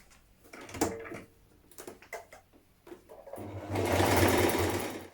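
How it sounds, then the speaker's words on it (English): A sewing machine stitches a buttonhole on dungarees; scattered ticks and fabric handling give way to a loud, steady close-up whir of the motor near the end. "continue with your top stitching down the sides of where you've created your buttonholes"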